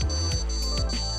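Alarm tones from an AON2 device, a steady repeating electronic beep pattern played at low volume, close and alone with no talking.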